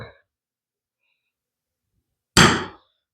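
After a stretch of near silence, a center punch is struck once on a workpiece to mark a drilling spot, a crisp close metallic clank that fades quickly.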